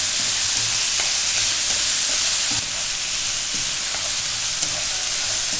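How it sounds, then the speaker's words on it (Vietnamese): Sugar-marinated pork stir-fried in a pan over a wood fire, a loud continuous sizzle with periodic scraping and tossing of the spatula close by, no voices. "Mình xào cho cái thịt mình nó săn lên nhé."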